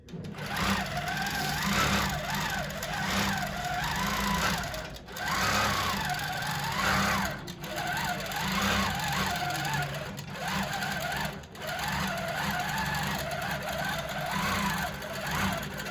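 A quilting machine stitches an all-curves edge-to-edge design at fairly high speed, a loud continuous mechanical whir with rhythmic sewing drone and a few brief pauses, no talk.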